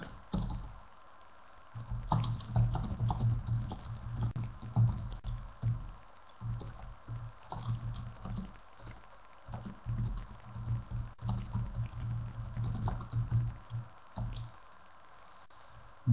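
Bursts of typing on a computer keyboard, quick clusters of light key clicks separated by short pauses, close and fairly quiet, with no talking over them.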